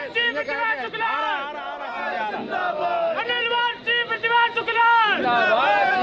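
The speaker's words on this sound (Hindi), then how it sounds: "कार्यकर्ता वहां पर नारेबाजी भी कर रहे थे।" Party workers shouting slogans outside a police station during a sit-in protest, a loud crowd of voices chanting in rising, strained bursts close by, with overlapping calls and brief gaps between rounds.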